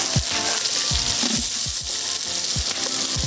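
Spices sizzle and crackle in hot oil while tempering for a Jaffna-style mutton biryani, a steady loud hiss broken by regular stirring scrapes.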